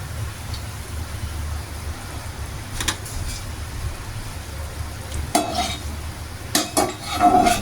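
Stuffed pitha frying in a pan at home, a steady low sizzle broken by sharp clatters of a spatula against the pan, with the scraping and knocking growing busier toward the end.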